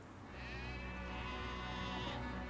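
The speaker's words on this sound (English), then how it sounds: "The sheep may have found their new home" A sheep bleats in one long, wavering call heard fairly close over a steady low background hum, at a castaways' island settlement.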